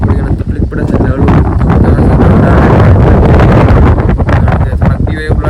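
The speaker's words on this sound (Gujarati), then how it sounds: "પવન છે બહુ એટલે થોડી તકલીફ પડે છે" Strong wind buffets an outdoor microphone where pigeons are being flown, a loud, continuous rumbling roar with gusty surges lasting throughout, while someone talks over it.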